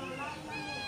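A cat meows in a home while a child plays and eats, the sound close and mixed in with talk throughout the short moment.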